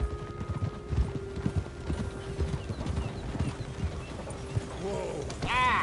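Horse hooves clip-clopping at a steady walking pace in the Red Dead Redemption 2 video game, close and continuous, with a brief whinny-like squeal near the end; a voice speaks briefly over it.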